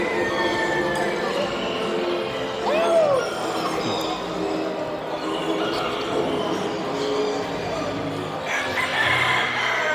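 At a bird sale expo, a rooster crows once, clear and fairly near, over a busy backdrop of crowd murmur and other fowl noises, with people talking around it.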